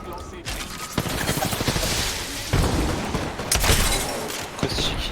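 Dense gunfire and a heavy explosion blast from a frag grenade in the battle royale video game Apex Legends, continuous loud bursts with sharp booms layered over a chaotic mix, with game voices faintly underneath.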